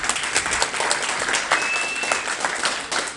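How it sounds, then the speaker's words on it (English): Steady applause from a seated audience welcoming a speaker to the stage, a dense continuous patter of clapping at moderate loudness with no voices over it. "So round of applause for Matthew, everybody."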